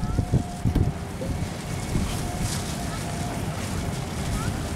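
Boats ride a choppy river whipped by strong waves, steady wind and water rush roaring close to the microphone, with a few heavy thumps at the start and a voice speaking over it.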